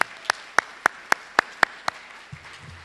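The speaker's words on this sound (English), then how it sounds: "welcome back our 6 candidates as we give them a round of applause" Audience applause for six candidates at a festival ambassador coronation, heard as a slow run of about eight sharp, evenly spaced claps that sound close by, followed by a faint voice.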